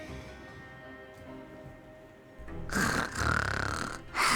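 Paimon snoring in the video game Genshin Impact, quiet game ambience followed by loud, close, rasping snore breaths in two or three drawn-out pulls.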